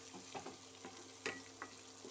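Spice paste of ground onion, garlic and ginger with a few black mustard seeds frying in a pan, giving soft sizzling with scattered small pops and crackles at moderate volume.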